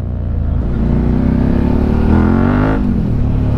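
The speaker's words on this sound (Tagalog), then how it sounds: "Iyon, may tunog na yung motor." A Suzuki SVT 650x motorcycle with a new exhaust revs loudly up close, its deep exhaust note rising in pitch and then dropping back, alone with no talk.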